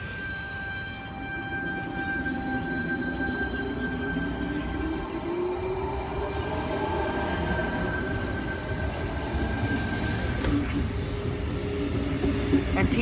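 A Sydney suburban train pulls out of Eastwood station platform 3 on an Epping service, with a steady low rumble and a high whine that builds as it accelerates close by, and a brief clank near the end.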